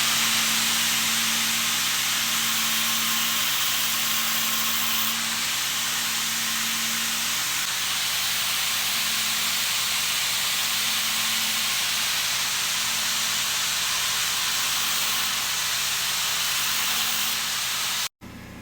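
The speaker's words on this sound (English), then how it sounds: "After some precision machining with the grinder, we have a groove cut." A grinder cutting a groove into a Dodge NP241 DHD transfer case gear, a steady loud hissing whine held for most of the run with no voices, stopping abruptly just before the end.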